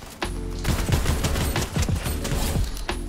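Rapid gunfire from a weapon with heavy recoil in the Fortnite video game, a dense fusillade of close, loud shots in quick bursts lasting about three seconds.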